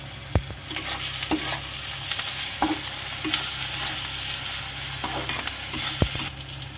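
Fish curry masala with coriander powder sautéing in a pan, a steady sizzle broken by repeated spoon knocks and scrapes against the metal.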